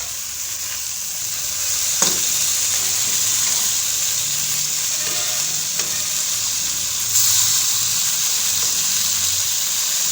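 Fish fillet cooking without oil in a pan, a steady broadband sizzle running the whole time with a few soft clicks and scrapes, close and fairly loud, no voices.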